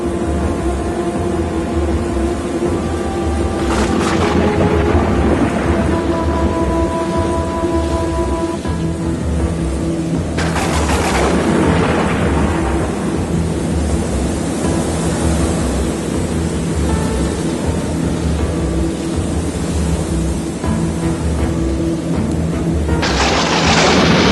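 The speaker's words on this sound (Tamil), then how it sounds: "பயங்கரமான காற்று மேலும் அதிக வேகத்துடன் வீசியது, ஒரு சுழற்காற்றை போல." Strong storm wind roars like a whirlwind in a children's animal fable, a loud, steady rushing gale that swells in gusts, with deep rumbling low end and no voices.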